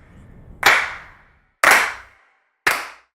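Three crisp sampled claps from a clap sample pack, each loud and bright with a short roomy tail, spaced about a second apart with silence between them.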